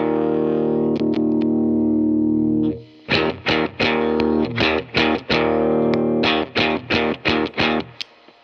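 An electric guitar runs through a Malaysian-made Boss compressor pedal. A sustained distorted chord rings for nearly three seconds, followed by a run of punchy, evenly spaced chopped strums with a compressed, even attack.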